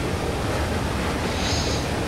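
Rising water in the video game Limbo makes a constant loud wash of rushing, surf-like noise with no talking.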